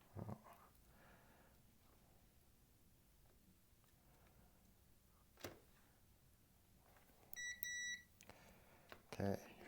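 A multimeter in continuity mode gives a short electronic beep near the end of a quiet stretch as its probes touch points on a Digi-Matic M8-2 calculator circuit, amid soft handling clicks and faint rustle.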